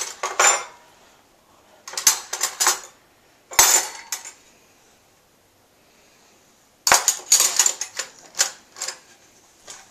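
Silverware clinking and rattling as it is loaded into a home dishwasher, several bursts of metallic clatter separated by quiet pauses, close and crisp.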